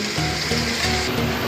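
Biryani masala frying in a pot for restaurant-style dum biryani, a constant close hiss and crackle of sizzling oil with no pauses.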